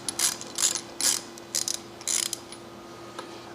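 A ratchet tightens bolts down to the bottom of threaded holes in an EDM machining setup, giving quick bursts of clicking in uneven groups over a low steady hum, close and fairly quiet.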